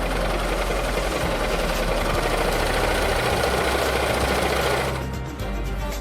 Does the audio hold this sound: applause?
no